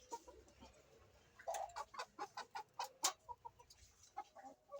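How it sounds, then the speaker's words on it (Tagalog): A young rooster clucking close by, a run of short, evenly spaced clucks and chirps in a quiet outdoor setting, with no talk. "Yung ating bagong batang rooster."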